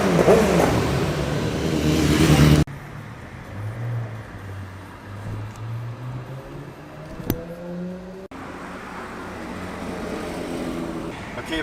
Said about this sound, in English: We're just in time for the Lamborghini Aventador Roadster.